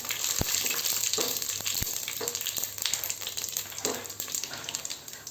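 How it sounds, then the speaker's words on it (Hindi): Cumin and shahjeera seeds crackle and sizzle in hot oil for a mutton yakhni pulao, a steady close frying hiss broken by a few sharp pops, with no voices. "आधा चम्मच शाहजीरा और आधा चम्मच जीरा। ये सब चीज़ें हम डाल देंगे। तड़कने देंगे इन्हें।"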